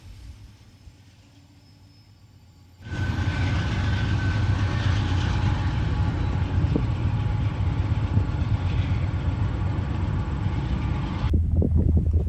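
A converted eco-friendly CSX locomotive, rebuilt from an old Dash 9-44CW or 40CW unit, passes as a train with a loud, steady roar and rumble that starts abruptly after a quiet lead-in and holds close until a sudden drop near the end.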